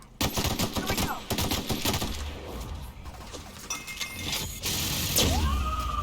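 Rapid automatic gunfire in the sci-fi video game The Outer Worlds, dense bursts of loud close shots with a few pauses and scattered impact clatter, a voice briefly speaking.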